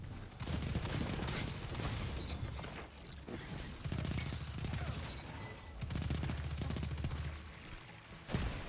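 Dense, sustained video-game gunfire with rapid automatic bursts and heavy rattling shots, loud and close, running almost continuously with brief gaps.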